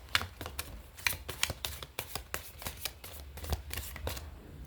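Tarot cards shuffled and drawn by hand indoors: a steady run of sharp, papery riffles and flicks, close and fairly quiet, with brief pauses between bursts and no voices.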